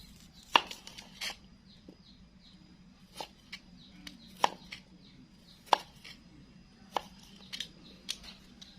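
A knife slices into a caladium bulb in a few sharp, separate cuts, crisp clicks spaced a second or so apart over a quiet background.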